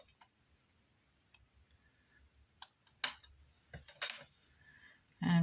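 A blade slices through a polymer clay butterfly wing cane with a few quiet ticks and taps, then two sharper cutting clicks near the middle and a thud at the end.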